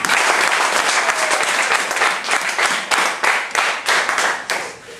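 A church congregation claps loudly and steadily for the full length, dense broadband applause that gradually breaks into more distinct, uneven bursts toward the end, with no talking over it.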